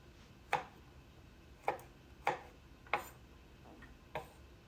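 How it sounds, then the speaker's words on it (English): Sharp knife strokes chopping garlic finely on a cutting board, six distinct knocks spaced irregularly about a second apart, close and crisp against a quiet kitchen background. "And then next I'm going to work on the garlic. I'm just going to chop it up a little bit"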